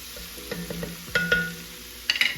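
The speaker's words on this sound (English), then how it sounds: "I'm gonna give it a good little stir here to make sure everything's coated." Green beans are stirred in hot bacon fat, giving a sizzling bed of sound with a quick series of scraping, clattering strokes of a spoon against the pan, close and fairly loud.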